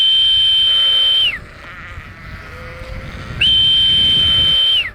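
Ewes from a flock of about 400 on a sheep farm near the Loire hillsides bleat in two loud, sustained calls, one at the start and one near the end, with a quieter outdoor lull between them and no talking.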